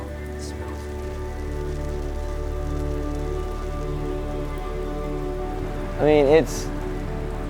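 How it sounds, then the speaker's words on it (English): Steady rain falls across an outdoor concrete skatepark in Des Moines, Iowa, a constant hiss of drops on the surface with a brief spoken remark near the end. "been raining the majority of the time we've been in Des Moines"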